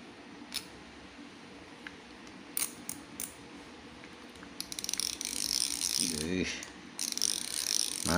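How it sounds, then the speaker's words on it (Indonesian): A Zorro Wanu baitcasting fishing reel's drag clicker gives quiet, scattered single clicks, then fast, bright ratcheting bursts close up, with a short pause between the bursts. "Mantap ini drag clicker."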